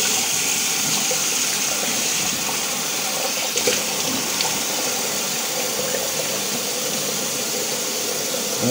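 Water running steadily from a tap while a face is rinsed after shaving, a loud continuous hiss and gush close up with faint splashes, no talking.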